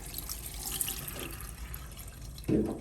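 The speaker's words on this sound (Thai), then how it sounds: "น้ำเย็นราดค่ะ" Cold water is poured over freshly blanched Shanghai noodle greens, a soft continuous trickling wash that swells into a louder splash near the end, close by with no voices.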